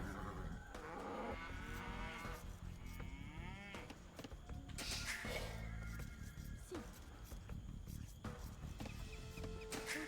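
Cows moo in the video game Age of Empires 2, several loud drawn-out calls over a busy game soundscape with clucking fowl and a faint voice in the background.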